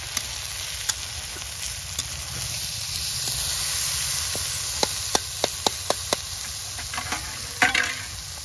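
Dal (lentils) frying in a pan over a village cooking fire, with a soft continuous sizzle under repeated sharp scrapes and taps of a stirring spoon, several clustered near the end.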